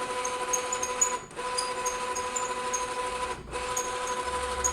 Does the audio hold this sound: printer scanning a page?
yes